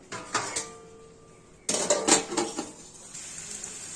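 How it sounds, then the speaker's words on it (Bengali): A lid goes onto a cooking pan holding jackfruit with catla fish head, making a few metal clinks and then a louder clattering knock of metal on metal, up close with no talking. "এখন পাঁচ মিনিটের জন্য ঢেকে দিব"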